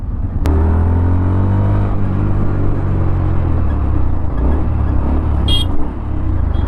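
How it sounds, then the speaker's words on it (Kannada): A 2024 Yamaha FZS V4 DLX motorcycle being ridden: a loud, close engine drone that shifts pitch as the throttle changes, with steady wind and road rumble throughout and no talk. "ನೋಡಿ ಸಂದಿಯಲ್ಲೆಲ್ಲ ಓಡಿಸ್ಬೋದು ಈ ಒಂದು ಗಾಡಿನ."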